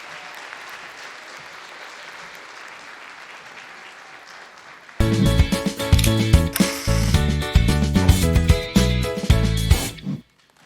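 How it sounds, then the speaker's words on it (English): An audience at a school awards ceremony gives a loud round of applause for young primary-grade winners, the clapping starting abruptly after a quieter murmur, staying dense and steady before cutting off near the end. "let's give all of our primary winners, kindergarten through 2nd grade, a big round of applause"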